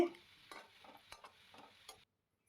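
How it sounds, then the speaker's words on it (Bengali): Spoon stirring tomato into a spiced masala in an oiled pan: a few soft scraping strokes with faint sizzle, close and quiet, ending abruptly in silence. "এবার ওপর নিচ ভালো করে নাড়াচাড়া করে নিতে হবে"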